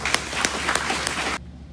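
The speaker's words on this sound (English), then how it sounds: "that in itself is worthy of applause." Audience applause at a military retirement ceremony: close, lively clapping from many hands with a few sharp individual claps standing out, ending abruptly into near silence.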